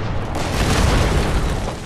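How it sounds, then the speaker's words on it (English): Grenade blasts in Fallout 76 make a continuous loud, rumbling boom that fills nearly two seconds, heavy low end and broad noisy crackle with no pause between detonations. "So I'm going to throw about 6 grenades before I proceed forward."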